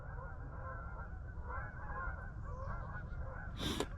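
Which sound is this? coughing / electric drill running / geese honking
geese honking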